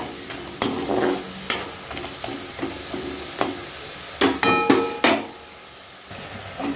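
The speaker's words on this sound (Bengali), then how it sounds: "একটু এগুলোকে নাড়িয়ে চাড়িয়ে দিতে হবে, বেশ লাল লাল হলে নামাতে হবে।" Kurkure snack frying in a pan under a soft sizzle while a utensil stirs it, giving repeated scrapes and sharp metal clinks in uneven bursts, close and clear, with a cluster of louder knocks near the end.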